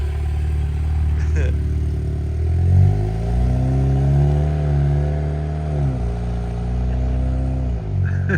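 A Jeep Wrangler JL with the 2.0 turbo engine and a Flowmaster exhaust accelerating hard, its loud engine note climbing in pitch through a gear change and then falling back, heard close up with voices in the background.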